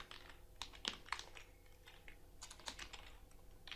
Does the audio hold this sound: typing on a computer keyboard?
yes